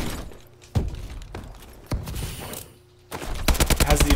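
Gunfire from the Inferno weapon in Call of Duty: Advanced Warfare, a few sharp isolated shots followed by a rapid rhythmic burst of repeated blasts at the end, loud and close with no talking.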